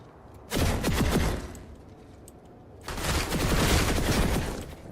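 Bursts of automatic gunfire during a firefight in the video game Planetside 2, two long loud volleys separated by a quieter gap, close and dense, with no speech.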